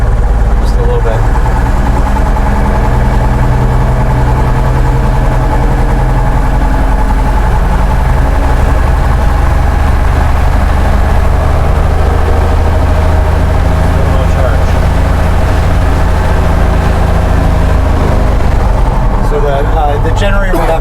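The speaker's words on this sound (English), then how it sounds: "The generator's actually pulled in right now already. Okay. We're not showing any charge here yet. So I'm gonna rev it up." Piston engine of a Cessna 172B light aircraft running steadily at close range and loud throughout, with a deep continuous drone that holds even as it is revved up slightly, alone without voices.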